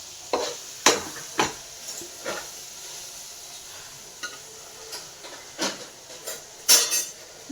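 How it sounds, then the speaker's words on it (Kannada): Rice tipped into a frying pan and stirred, giving scattered scraping and clinking strokes of a utensil against the pan over a faint sizzle, with no voices. "ನೋಡಿ ನಾನು ರೈಸ್ ಹಾಕ್ಕೋತೀನಿ."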